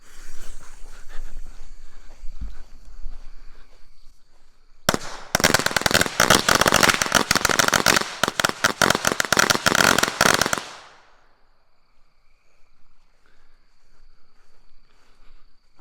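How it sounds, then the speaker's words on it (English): Cherry bomb firecrackers explode in a dense, loud burst of rapid cracks lasting several seconds, after a short fizzing fuse, then die away into quiet outdoor ambience. "I love lighting firecrackers."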